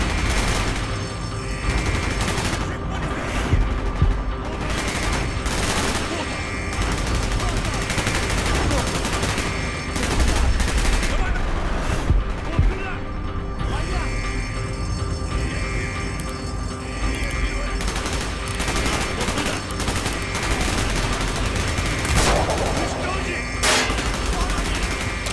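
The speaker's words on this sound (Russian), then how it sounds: "Стрельба слишком слышна." Heavy gunfire in the video game Call of Duty: Black Ops, with dense automatic bursts and booming shots filling the whole stretch, loud and continuous, with occasional speech mixed underneath.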